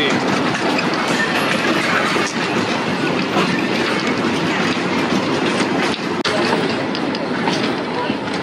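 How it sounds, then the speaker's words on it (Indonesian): An old wooden train carriage on the 100-year-old Ambarawa to Tuntang railway rattles and clatters continuously on the rails, a loud close rumble with clicking wheel beats and faint chatter underneath. "Sensasinya naik kereta CR. gerbong CR kayu teman-teman, gelodak-gelodak"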